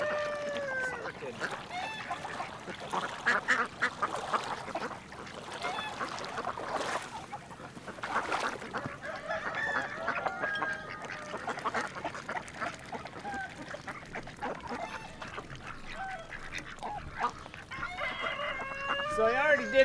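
Chickens and ducks on a farm cluck, crow and quack in a lively mixed chorus during morning feeding, with a person talking intermittently over the birds.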